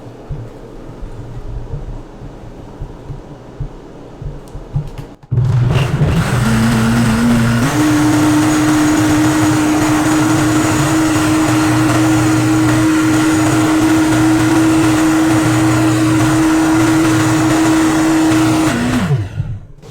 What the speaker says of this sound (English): we're going to turn this on and we're going to turn it on to high and we're going to let it get really shredded up in there